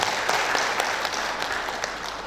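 Audience applause for St. John school at a parents' event, a dense, steady wash of clapping across the whole moment with no speech over it.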